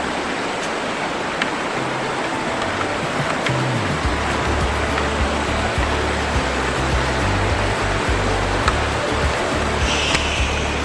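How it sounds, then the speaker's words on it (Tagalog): River at Dao Falls in Samboan, Cebu, flowing with a loud, steady rush of water close by, broad and continuous, with a low engine-like hum coming and going underneath. "Yung river ng Dao Falls,"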